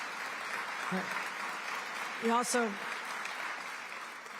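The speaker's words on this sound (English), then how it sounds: "Let's give a round of applause." Soft, distant applause from a rally audience runs steadily throughout while someone speaks briefly over it in the middle.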